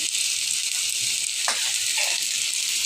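Spice masala frying in a pan gives a constant, bright sizzle with a few soft scraping stirs, close and steady with no talking.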